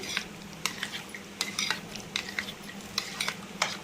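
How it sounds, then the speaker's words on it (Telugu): Carrot halwa mixture stirred in a pan, with repeated close scraping strokes of a spoon at an irregular, fairly quick rhythm over a soft low hum. "బాగా మిక్స్ చేసుకుందాం. ఉండలు లేకుండా మిక్స్ చేసుకొని"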